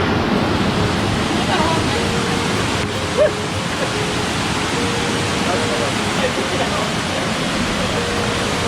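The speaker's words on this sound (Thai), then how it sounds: "บรรยากาศน้ำตกกวางสี น้ำตกซื่อดังของพี่น้องแขวงหลวงพะบางครับ" Kuang Si waterfall near Luang Prabang, Laos roars as a steady, dense wash of falling water, continuous and fairly loud throughout with no voices above it.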